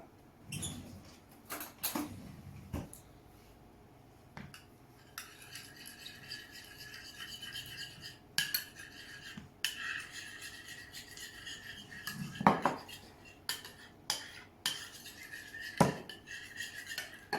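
Lemon juice being mixed into a dish with utensils: quiet, close scraping and clinking of metal against a bowl in irregular bursts, with brief pauses between strokes.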